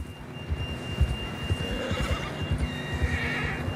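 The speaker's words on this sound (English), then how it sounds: "John was riding that horse when we left Blackwater." A horse in the video game Red Dead Redemption 2 whinnies over steady clip-clop hoofbeats and riding ambience, close and fairly loud, with no talking.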